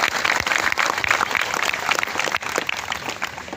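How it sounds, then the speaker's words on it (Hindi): A seated crowd of party workers at an indoor political rally bursts into loud, sustained applause, dense and continuous throughout with a few cheers mixed in. "जरा जोरदार तालियां अपने लिए बजाओ भाई"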